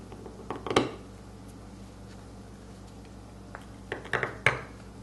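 A seal carved in crisp Changhua stone gives sparse, dry scratches and gritty clicks, a short cluster early and another group near the end, close and fairly quiet over a faint steady hum.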